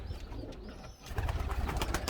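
Sport pigeons in a home loft coo in a low, steady murmur of overlapping calls, with a brief lull partway through before the cooing swells again.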